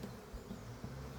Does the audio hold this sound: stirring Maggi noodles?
no